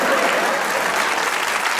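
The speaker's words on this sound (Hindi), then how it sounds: "मैं इस पे ताली बजवा देता हूँ, बजा लो एक बार।" Studio audience on a comedy talk show breaks into loud, sustained clapping, a dense even wash of applause that runs throughout without letting up.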